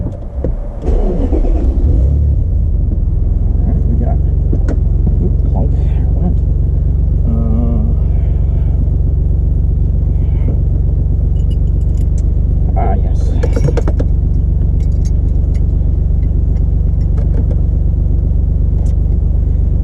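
Car engine idling and pulling away for a drive around the block, a steady low rumble throughout with occasional jangling and interior clatter, a voice speaking intermittently over it.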